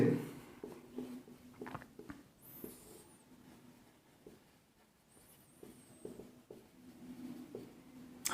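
Chalk or marker taps and scratches across a board in short bursts while equations are solved, quiet and close, with a pause midway before the writing resumes.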